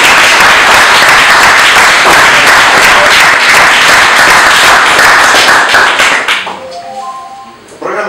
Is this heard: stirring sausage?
no